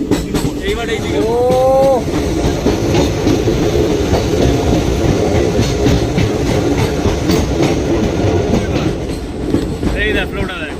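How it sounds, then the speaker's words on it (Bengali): A train rumbles and clatters steadily near Dudhsagar waterfalls, loud and close, with a rising horn-like whine early on and brief tonal calls near the end, while people talk over it. "ইয়ে ট্রেনটা ওই দিক দিয়ে ঘুরবে ওরকম ভাবে"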